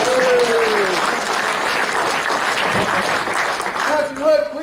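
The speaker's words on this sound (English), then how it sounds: "Give yourselves a big round of applause" A room full of people at a Rotary club gathering applauds loudly and steadily throughout, with a voice briefly heard at the start and again near the end over the clapping.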